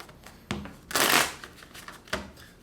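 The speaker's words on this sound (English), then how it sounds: "Let's get 5 shuffles and get straight into it" A deck of cards is shuffled close up for a tarot reading, a soft riffle swelling into a dense burst of flicking cards, with a few sharp taps around it.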